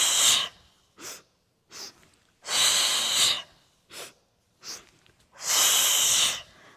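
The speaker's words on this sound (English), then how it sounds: "My breathing, if it sounds pretty strong, it's from a Pilates guy named Ron Fletcher. And the breath is very percussive." Strong, percussive Pilates breathing in the Ron Fletcher style during a beginner mat class: sharp forceful exhales and inhales in uneven bursts, some short and some drawn out, close and loud with silent gaps between.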